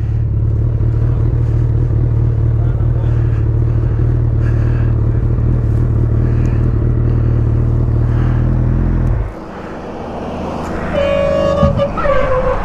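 A motorbike engine runs on a road after being pushed out, rumbling loudly and steadily before cutting off abruptly, leaving lighter traffic noise and a short horn toot near the end.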